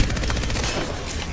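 Rapid gunfire bursts in an online shooter video game, a loud dense volley of repeated shots lasting just over a second.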